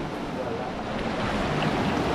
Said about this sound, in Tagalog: Rumaragasa yung tubig patungo sa Laguna